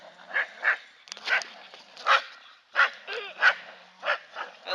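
Several dogs in a playful pack bark and yip in short, repeated bursts, close and fairly loud, with a few higher whimpering yelps mixed in and no talking.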